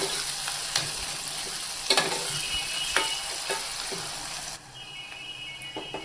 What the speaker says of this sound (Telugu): వేసి ఒక 1 మినిట్ అలా ఫ్రై చేస్తాం.